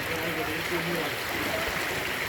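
Spring water emerging from underground in the village of Rakovets and flowing downhill, a steady close rush and trickle that fills the whole clip without pause.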